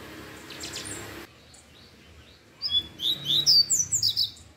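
A papa-capim seedeater, a young bird, sings a quick series of bright, high chirps and warbles near the end, close by, after a quiet stretch.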